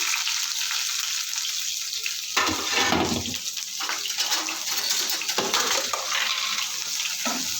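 Hot oil hisses steadily in a pan, then flares into a louder, spattering sizzle as food goes in, staying busy and close.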